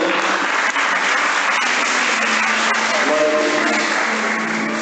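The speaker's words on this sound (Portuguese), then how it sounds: "aplauda a palavra do Senhor" A church congregation breaks into loud, dense applause during a sermon, a continuous wash of many hands clapping close up that holds steady throughout.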